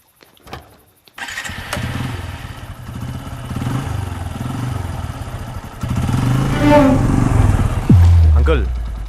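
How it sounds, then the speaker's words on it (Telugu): A motorcycle engine kicks into life after a couple of clicks, then idles and revs louder and nearer, with voices talking over it in a Telugu comedy scene. "రండి బైక్ ఎక్కండి"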